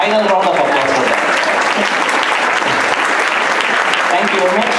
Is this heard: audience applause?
yes